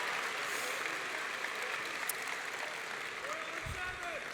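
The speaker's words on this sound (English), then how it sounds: "how about one more round of applause for all our speakers and performers tonight?" Applause from the audience at a high school graduation ceremony, a steady, dense wash of clapping from a large crowd that continues throughout.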